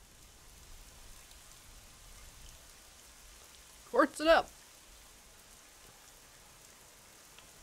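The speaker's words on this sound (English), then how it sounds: "It's raining." Steady rain falling in Atrio: The Dark Wild, a soft even patter running through the whole stretch, briefly covered by a short burst of speech in the middle.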